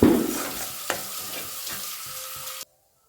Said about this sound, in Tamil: வறுத்துறணும் எல்லாத்தையுமே நல்ல வறுத்தரலாம் நல்ல பொன்னிறமாக வர அளவுக்கு நம்ம வறுத்தரணும்